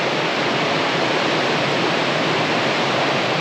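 Broad, steady rush of a river flowing past on a rainy, overcast day, an unbroken wash of water noise filling the scene with no voices.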